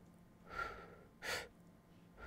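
A French bulldog puppy breathes in short, soft bursts, three breaths spaced about half a second apart, close and quiet with no other sounds.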